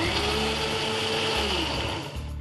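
A kitchen mixie grinds jackfruit pods with jaggery, its motor running at a steady high whine close by, with a slight dip in pitch as the load shifts.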